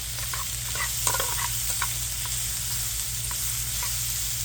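Vegetables sweating down in a pan give a soft, steady sizzle with occasional stirring scrapes, faint and continuous with no talk.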